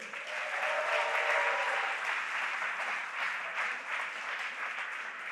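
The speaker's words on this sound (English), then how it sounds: "Big round of applause from the audience there, great stuff." Sustained audience applause at an international esports motorsport event, a dense, steady wash of clapping lasting several seconds with no talk over it.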